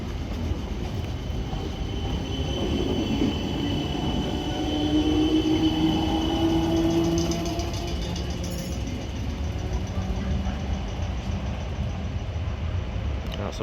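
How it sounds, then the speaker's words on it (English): A South Western Railway Class 455 electric multiple unit passes through Raynes Park on the South Western Main Line toward London Waterloo, a sustained rumble of wheels with a brief tonal squeal midway, fairly close and loud throughout. "A South Western Railway service for London Waterloo."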